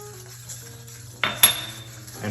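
A utensil mixes a sauce of soy sauce, Shaoxing cooking wine and oyster sauce: after a quiet stretch with a low hum, two sharp close clinks and a short scrape ring out, with no voices.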